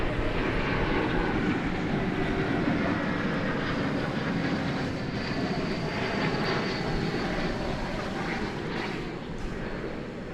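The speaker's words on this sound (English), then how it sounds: "This is American 2720, an Airbus A321 arriving from Tucson," American Airlines flight 2720, an Airbus A321 arriving from Tucson, Arizona, at Dallas Fort Worth Airport, a loud, continuous broadband engine roar that holds steady throughout and eases slightly at the end.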